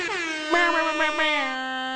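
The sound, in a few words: air horn blasts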